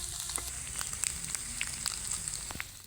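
Pieces of flour dough fry in hot oil, turning red on both sides, giving a steady bright sizzle with scattered sharp pops and crackles throughout, close and moderately loud, with no talking.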